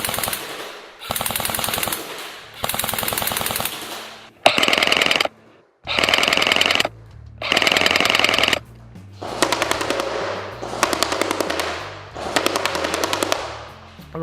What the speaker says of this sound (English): So we're going to do 3 bursts of fully automatic fire.